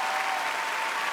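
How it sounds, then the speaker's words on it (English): A large talent-show audience claps in a dense, steady roar of applause that carries through the whole stretch without a break. "Heidi, you're still clapping, standing ovation."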